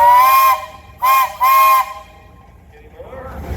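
Whistle of a steam traction engine at a pioneer steam engine and tractor show parade: one long loud blast followed by two shorter bursts, then quiet with faint crowd noise.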